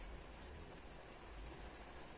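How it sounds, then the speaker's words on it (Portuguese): Rain falling steadily outside, a soft, even hiss with no breaks, faint and continuous, heard from indoors. "Estão a ouvir a chuva?"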